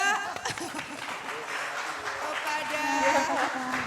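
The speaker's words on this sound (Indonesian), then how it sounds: "Baik kita kasih tepuk tangan juga" Applause from an audience at an Indonesian Gen Z communication seminar, a sustained crowd clapping wash with a few chuckles, under a presenter's voice over a PA.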